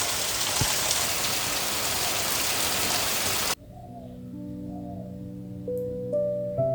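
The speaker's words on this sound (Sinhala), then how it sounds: "බලන්නකෝ අපිට වහින තරම්" Heavy rain pours down in Sri Lanka as a dense, loud, steady hiss that cuts off abruptly halfway, followed by quiet tonal music-like sounds.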